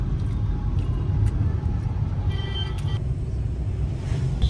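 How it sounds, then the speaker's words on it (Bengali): Jammed road traffic rumbles low and continuously, with engines idling and creeping, and faint higher clinks and squeaks scattered above the steady drone. "রাস্তায় এত জ্যাম, আস্তে আস্তে সন্ধ্যাই হয়ে গেল"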